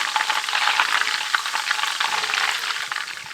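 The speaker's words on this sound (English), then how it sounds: "So now you can see the browning of the butter, brown flakes." Butter browning in a pan gives a loud, steady frying sizzle with dense crackle and small pops, continuous and close with no voices.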